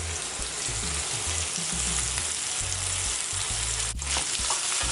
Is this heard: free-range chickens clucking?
no